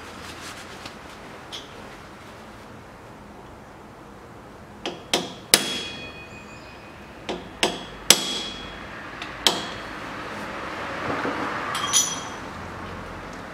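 Hammer blows staking the drive axle nut on a CFMOTO CF625 X6 EFI quad: about a dozen sharp metallic strikes, sparse at first, then clustered, close and ringing, no talk.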